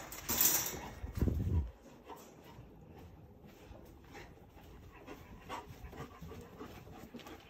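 A dog pants close by after a brief loud scuffle and thump at the start, then keeps up soft, quick breaths with faint movement noises.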